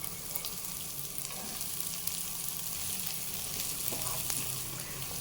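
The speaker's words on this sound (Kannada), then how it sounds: "ಕಾಳು ಸ್ವಲ್ಪ ಫ್ರೈ ಆದಮೇಲೆ ಈರುಳ್ಳಿ ಹಾಕ್ಕೊಳ್ತಿದ್ದೀನಿ" Chopped onion, beans, carrot and capsicum frying in a pan for quinoa fried rice, a steady close sizzle with faint stirring scrapes and no talk.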